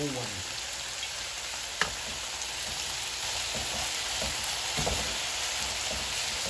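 Food fries in a wok with a dense, loud, rain-like sizzle that carries on throughout, broken by one sharp clank and a few light stirring knocks.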